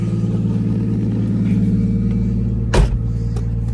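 A car idles steadily with a low, even rumble and a brief louder burst near the end, heard up close with no talking.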